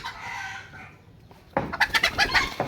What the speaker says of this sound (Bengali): এই দেখুন দেশি মুরগি।